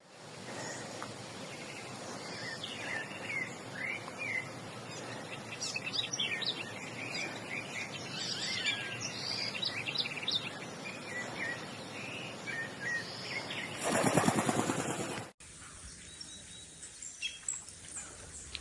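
Birds chirp and sing continuously over a countryside lawn at a luxury inn in the Serra da Canastra, Brazil, with insects buzzing underneath and a loud rustle near the end.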